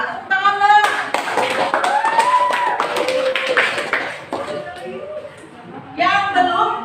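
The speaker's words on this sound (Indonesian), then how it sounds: "Tepuk tangan dong." A classroom of students claps for a presenting group, with sharp, uneven hand claps mixed with chatter and excited voices that overlap throughout, loud and close.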